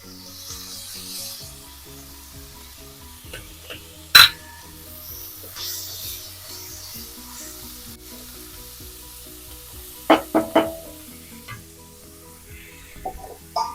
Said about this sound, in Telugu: ఇప్పుడు ఇందులో టమాటా అల్లం వెల్లుల్లి పేస్ట్ వేద్దాం